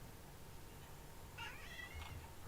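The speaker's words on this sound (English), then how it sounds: "that's the cat you can hear there." A cat gives a single faint meow, short and rising, against low background hum in an otherwise quiet room.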